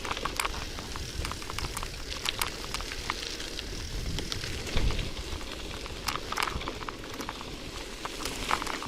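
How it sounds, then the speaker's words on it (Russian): Light rain falls with a quiet, steady crackle of scattered drops pattering on surfaces, over a faint low rumble. "Дождик накрапывает."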